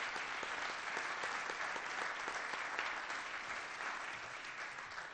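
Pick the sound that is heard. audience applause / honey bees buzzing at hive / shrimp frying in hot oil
audience applause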